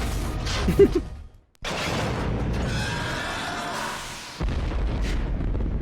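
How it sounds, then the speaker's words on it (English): Red barrels exploding in Metal Gear Solid: The Twin Snakes on GameCube, a loud booming blast with a rumbling, whooshing tail, a brief drop to near silence, then another sustained roar of debris and mechanical noise. "Look away from the explosion."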